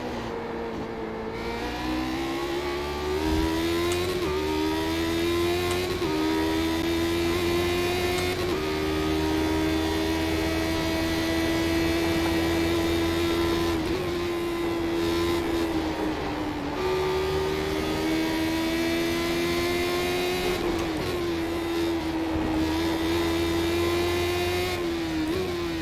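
Lotus 79 racing car engine at Zandvoort, loud and close throughout, a steady high rasping drone with pitch dipping and rising as gears are dropped quickly under braking, no talking.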